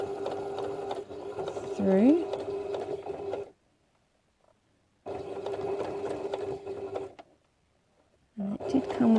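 A sewing machine runs in steady whirring bursts as it stitches fabric for a Drunkard's Path quilt block, stopping twice in near silence between runs, with a voice speaking over the stitching.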